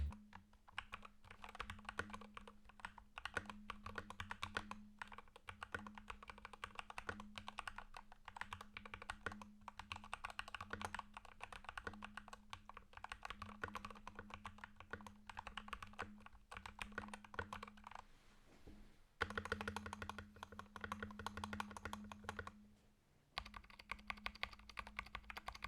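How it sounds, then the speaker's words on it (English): Fast, steady typing on a mechanical keyboard fitted with factory-lubed Gateron Pro Yellow switches, a dense run of close, crisp key clacks with a brief pause near the end before typing resumes, no voices. "Here is a typing test."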